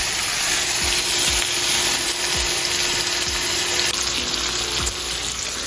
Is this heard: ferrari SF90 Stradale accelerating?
no